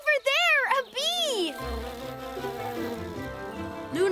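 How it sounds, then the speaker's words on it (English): Cartoon bee buzzing in a garden scene, a bright wavering drone that swoops up and down in pitch near the start, then gives way to soft background music. "Over there, a bee!"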